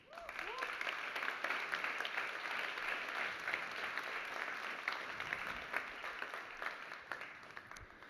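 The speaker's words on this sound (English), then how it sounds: "So also for them, please give them a huge round of applause." An audience at an AI summit claps together for the student organizers, giving steady, sustained applause that carries loudly and evenly for several seconds before fading slightly at the end.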